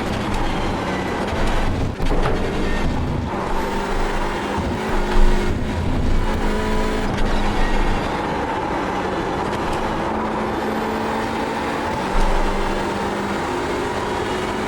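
A Hyundai Elantra race car engine at Watkins Glen in iRacing drones steadily throughout, with a sustained mid-pitched hum and a few brief bumps and clicks.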